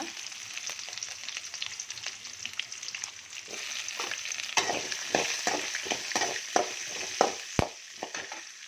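Chopped onions frying in oil with browned urad dal, a steady sizzle with scraping and stirring clicks that grow sharper and more frequent in the second half.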